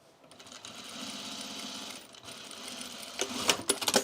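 A sewing machine stitches the rise seam of cargo pants, a short steady hum that dips briefly, then picks up with a few sharper clicks at the end.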